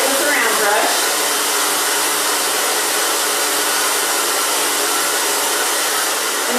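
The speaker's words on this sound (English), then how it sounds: "I'm going to take my big round brush and dry it with a round brush." A hair dryer blows steadily on hair being styled with a big round brush, a loud, close, even whooshing hiss that holds for nearly seven seconds without a break.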